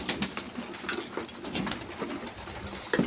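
Satin pigeons in a home loft coo in soft, overlapping low calls, with scattered clicks and flutters close by as rain begins.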